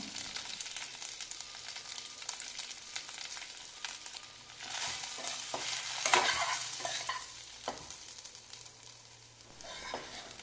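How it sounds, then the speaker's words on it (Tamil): Spice powder being stirred into ammini kozhukattai in a pan, with scraping and stirring strokes over a soft sizzle, fairly quiet and close, growing busier midway. "இதில் நம்ம ரெடி பண்ணி வச்சுருக்க பொடியை தூவி கிளறி விட்டுறலாம்"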